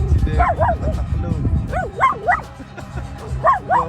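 Several dogs on a beach bark, yip and whine in repeated bursts, fairly close, over steady surf or wind rumble, with people talking in between.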